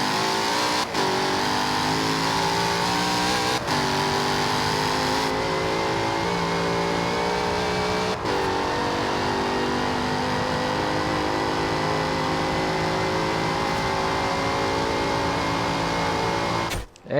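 A car in the Forza Horizon 2 video game accelerates hard down a drag strip runway, its engine note climbing steadily through several gear shifts, loud and continuous with no talking.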